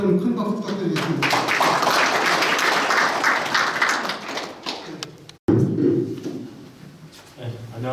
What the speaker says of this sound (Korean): 모두 고맙다는 큰 박수 부탁드리겠습니다